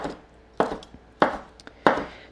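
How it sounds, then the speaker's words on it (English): A knife cutting sausages into angled half-inch slices on a board, three distinct sharp chops about half a second apart with faint small taps between, close and clear with no talking. "I'm just gonna cut between the links, and then just on an angle, just sort of like 1/2-inch slices"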